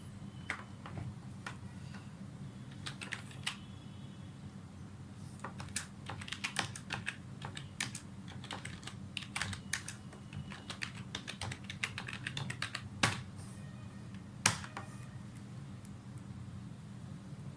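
Keys clatter on a computer keyboard as text is entered into a beginner C# program, bursts of light quick clicks over a low steady background hum, faint and close.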